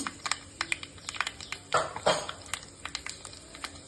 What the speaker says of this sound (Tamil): பாருங்க, கடுகு பொரிஞ்சிருச்சு